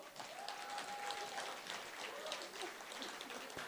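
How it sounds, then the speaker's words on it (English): An audience applauds an award winner at a national teaching awards ceremony, a soft, distant wash of clapping across a large hall with a faint murmur of voices. "Let's clap for Lerato"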